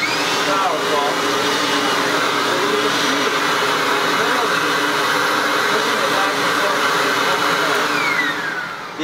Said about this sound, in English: I'm just going to use one finger to push this machine back and forth.